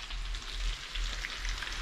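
Parasol mushrooms fry in a pan, giving off a steady, moderate sizzle with soft crackles and faint stirring, continuous and close without any talk.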